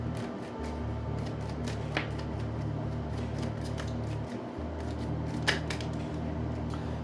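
Oracle cards being shuffled and pulled from a deck, a soft, steady papery riffling and scraping that runs throughout, close and fairly quiet, with a few sharper card snaps and low background hum.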